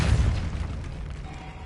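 Depulso spell effect in Hogwarts Legacy on PS5, a deep rumbling magical blast that booms at the start and decays into a low, fading whoosh, fairly loud and alone.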